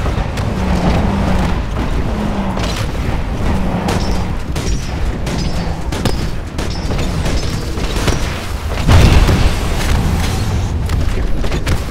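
Mortar Titan barrage in Titanfall Frontier Defense on Nexus, deep booming explosions thudding repeatedly under steady rumbling wind-like noise, one heavier blast standing out near the end.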